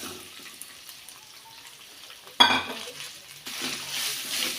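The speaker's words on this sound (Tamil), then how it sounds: "தேங்காய் சேர்த்து நல்லா வந்து கலந்து விட்டுடலாம் எண்ணெயிலே வந்து கொஞ்சம் நேரம் வதங்கணும்" Grated coconut being stirred and sautéed in oil in a pan, with a soft scrape and a sudden louder scrape or clatter midway, then a steady low sizzle and shuffling.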